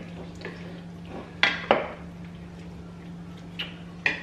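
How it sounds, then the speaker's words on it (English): Cooked pasta being stirred with a wooden spoon in a pot, giving soft wet stirring noise under a low steady hum, with a few sharp knocks against the pot's side, two close together and one near the end. "Just mix up this pasta, loosen it up a little bit."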